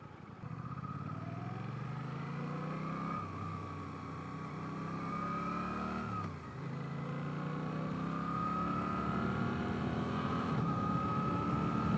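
KTM 390 Adventure single-cylinder motorcycle engine held at high RPM, a steady loud whine that rises and falls with the revs, with one brief dip midway, close and continuous, no talking.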